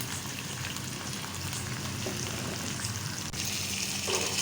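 Biryani masala being roasted in a pan for chicken tikka biryani gives a dense, even sizzle with a watery crackle, steady and close throughout.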